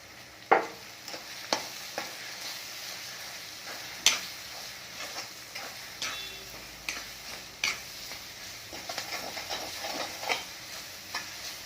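Coconut and green chili kharda being stirred in a pan, with steady frying sizzle under repeated sharp scrapes and clicks of the spoon against the metal, close and moderately loud, with no talking.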